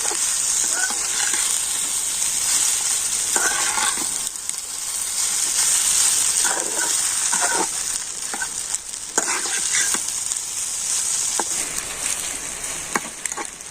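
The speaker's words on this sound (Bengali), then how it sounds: "তো সমস্ত কিছু কিন্তু আমি খুব ভালো করে একটু ভেজে নিয়েছি।" Torn flatbread pieces are stirred and fried in a pan, making a loud, continuous sizzle with a spatula scraping and clattering throughout.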